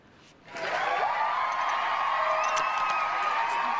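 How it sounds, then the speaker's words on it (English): A large crowd suddenly erupts into sustained cheering and whooping during a live streamed show, loud and continuous after a brief quieter start. "That is an entire crowd of people. Cheering just for you."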